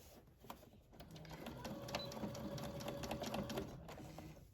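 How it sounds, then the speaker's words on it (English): A sewing machine runs a short back stitch on a scrub top seam, giving a quiet rapid mechanical whir that builds, holds for a few seconds, then slows. "I'm going to do a little back stitch."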